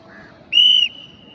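A sharp, high whistle is blown once on a police academy training ground. The loud blast lasts under half a second, after a fainter tone.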